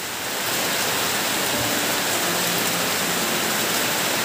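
Heavy monsoon rain pours down with water rushing all around, a dense, steady roar of hiss and splash that stays loud and unbroken throughout.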